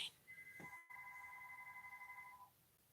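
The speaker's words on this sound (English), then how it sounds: "You hear that landline? We still have a landline here." A landline telephone rings indoors, a quiet electronic two-tone trill heard once and sustained for about two seconds, somewhat distant and alone without talk.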